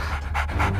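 A dog pants close by in quick, rhythmic breaths, two or three audible huffs in a short burst with a low background hum.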